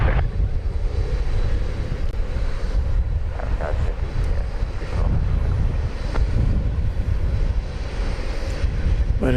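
Jet airliners, including UPS cargo planes, roar and rumble loudly at DFW Airport under heavy, gusting wind buffeting on the microphone, with no talking.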